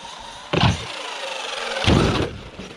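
An RC truck runs toward and off a big-air ramp, giving two loud broadband impacts about a second apart, each fading into rolling rattle, with a quieter bump near the end and steady motor hum underneath.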